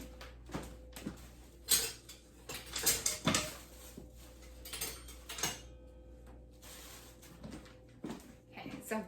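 Metal spoons clinking and clattering in a kitchen while one is taken out for tasting sangria, scattered sharp close taps and rattles with quieter gaps between.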